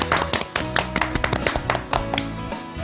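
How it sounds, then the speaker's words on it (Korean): A studio audience claps in welcome on a Korean live talk show about parenting, a dense stream of hand claps with irregular individual strikes, close and fairly loud, no voices over it. "박수로 청해 듣겠습니다"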